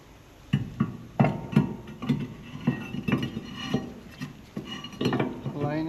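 Metal VW brake parts are handled during a new brake disc and pad installation: a close series of irregular clanks, taps and scrapes of steel on steel, with no talking.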